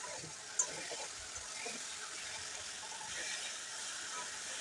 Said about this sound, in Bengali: মশলাটা খুব ভালোভাবে প্রায় ৪-৫ মিনিট মতো কষিয়ে নেব